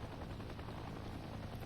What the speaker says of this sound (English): it's an attack helicopter